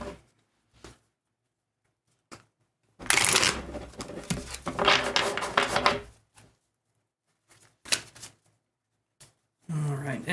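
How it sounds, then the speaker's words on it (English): A deck of tarot cards is shuffled during a live reading, crisp riffling bursts of a second or two separated by short pauses, close and fairly loud. "then I'm going to shuffle the other deck."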